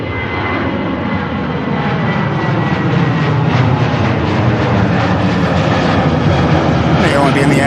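A passenger airplane at Manchester Airport roars loudly and steadily throughout, a broad continuous jet engine rumble that swells slightly toward the end, heard alone without talk.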